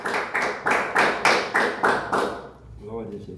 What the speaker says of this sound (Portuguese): as palmas bem fortes para Jesus